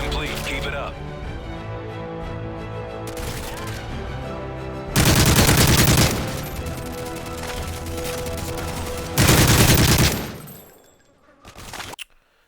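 Video game gunfire rattles through two loud bursts of rapid automatic fire that jump out over a steady bed of game sound, with a few scattered single shots and then a fade near the end.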